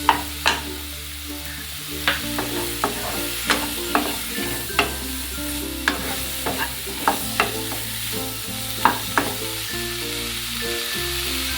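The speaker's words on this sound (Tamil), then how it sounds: "இந்த மஷ்ரூமை வந்து லைட்டாக இந்த வெண்ணெயில் நாம் வந்து வதக்கி வச்சுட்டோங்க" Mushrooms sauté in butter in a pan, a close, continuous sizzle broken by regular scraping and tapping of a spatula stirring every second or so, with no one speaking.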